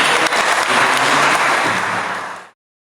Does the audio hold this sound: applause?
yes